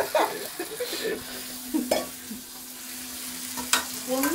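Dried fish and onions fry in oil for a fish gravy, a low, steady sizzle with occasional sharp scrapes and taps of a spoon in the pan, quiet and close with no speech.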